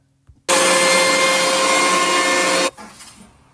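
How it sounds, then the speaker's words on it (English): A handheld router cutting wood with a shop vacuum clamped on roars in loudly and steadily for about two seconds, then cuts off abruptly, leaving a fading whir. "He's got a vacuum clamped to the shit and he's routing this thing."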